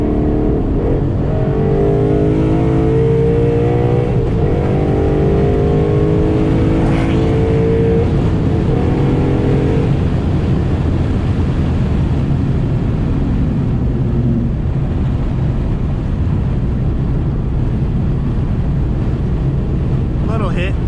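A car engine is revved hard to clear out the exhaust, a loud sustained roar that climbs in pitch and then settles, heard from inside the car with the windows down and steady wind rush throughout.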